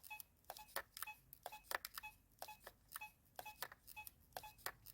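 Repeated short electronic beeps from a metal detector signalling a thin silver coin in the ground come in quick irregular bursts, clean and tonal, over a quiet background with no talking.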